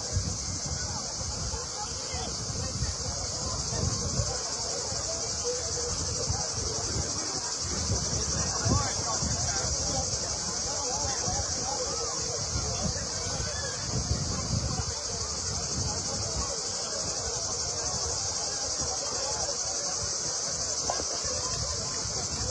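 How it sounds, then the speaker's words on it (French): Cicadas sing outdoors on a hot late-June day at a bull-running event in Vestric and Candiac, southern France: a dense, unbroken high-pitched drone holding steady throughout, over a low murmur of outdoor background noise. "je me tais et on écoute les cigales"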